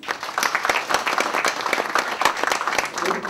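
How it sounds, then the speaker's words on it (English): Guests at a surgical society fundraiser dinner applaud the surgeons, a steady burst of many hands clapping at close range, dense and even for a few seconds with little talk. "A round of applause, please."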